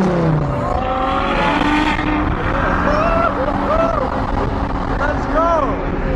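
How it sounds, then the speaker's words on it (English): Supercars including a Bugatti driving along a road, engines revving and rising in pitch as they pass close by, several overlapping passes with loud roars and whines, and people talking over the traffic. "The road is flooded with supercars."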